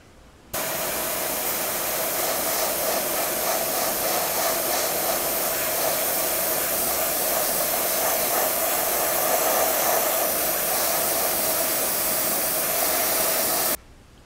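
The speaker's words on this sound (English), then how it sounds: "now I'm going to use my airbrush again to paint the model with the main colors" Airbrush spraying paint onto an Airfix HMS Belfast model ship, a loud steady hiss of air that starts abruptly, holds constant for about thirteen seconds, then cuts off.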